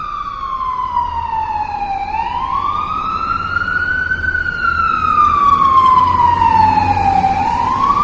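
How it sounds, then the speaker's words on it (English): A fire truck siren wails loudly and close, its pitch sweeping down, rising slowly, then falling again over a steady low rumble of the engine. "Fire truck."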